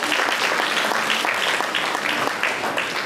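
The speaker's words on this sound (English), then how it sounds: "So a big round of applause for all of you." A group of kids and adults at an entrepreneurs bootcamp class gives a round of applause, a dense, steady clatter of many hands clapping at moderate distance, lasting throughout without pause.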